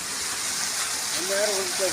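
Well water pours steadily into a well on a farm property, a broad continuous rushing wash with a voice briefly speaking over it near the end.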